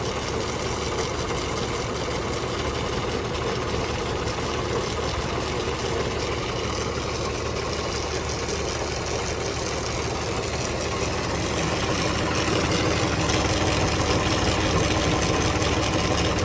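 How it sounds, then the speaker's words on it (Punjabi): A John Deere tractor engine idles slowly while driving a mounted spray pump used to spray wheat and potatoes. A steady, close, continuous rumble runs throughout with no pauses and no talk. "ਆ ਪੰਪ ਲੱਗਾ ਹੋਇਆ ਇਹਨੂੰ ਕੰਪਰੈਸ਼ਰ ਟਰੈਕਟਰ ਐਨ ਸਲੋ ਰੇਸ ਤੇ ਚੱਲੀ ਜਾਂਦਾ"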